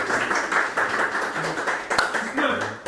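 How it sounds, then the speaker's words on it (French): Studio audience clapping on a French dating game show where contestants pop balloons or find love, a steady patter of hands under loud, continuous talk from voices nearby. "Regagne ta place, applaudissez-le."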